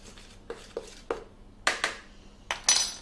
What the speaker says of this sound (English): we've got our flour mixture ready, which just give a little stir.